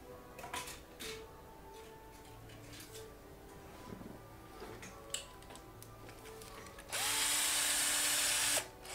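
A power drill with a small bit boring into a Korg Volca Modular mini-synth enclosure, with intermittent clicks and short whirs, then a loud steady high whine of continuous drilling near the end, close up.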